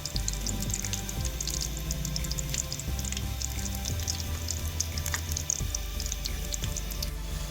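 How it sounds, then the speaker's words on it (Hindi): Papdi frying one by one in hot ghee for papri chana chaat: a continuous crackling sizzle with fine bubbling and popping, close and steady throughout, with no talking. "देखिए पापड़ी हमारी फ्राई हो रही है।"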